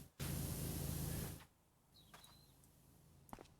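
Pressure washer spraying in PowerWash Simulator: a loud, steady hiss of water jet that runs for over a second, then cuts off abruptly, leaving faint room tone and a few small clicks.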